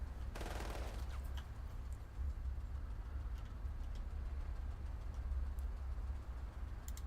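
Light machine gun fire in the video game Menace, a burst of distant rattling shots early on followed by scattered faint cracks over a low rumbling background.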